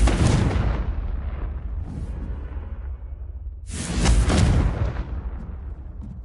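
Two heavy explosive blasts from a Confringo spell in a video game, each a loud boom with a rushing whoosh and rumbling tail, separated by a few seconds of fading roar.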